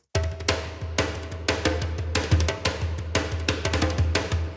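Nagara and ashiko hand drums pound out a dense, driving rhythm in a Hollywood fantasy-style percussion ensemble, with steady loud hits and sharp broadband attacks alongside deep low thumps, with no talking.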